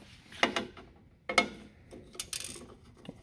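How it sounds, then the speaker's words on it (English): A small plastic screw spacer drops inside a Guillotine XPC19 PRO paper cutter, giving a few faint, brief clicks and rattles against metal in a quiet space. "I heard one of the spacers fall."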